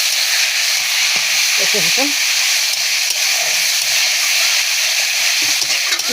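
Spice paste of ground leaves and tomato fries in oil in a wok, making a loud, close, continuous hiss, with someone speaking briefly over the sizzle.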